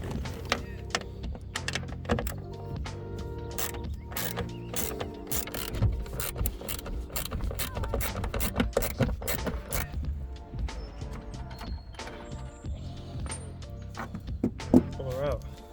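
A ratchet clicks rapidly while undoing 13mm bolts on the rear shock mounts of a BMW E46 320i, with dense close metallic ratcheting and clanks running through most of the span.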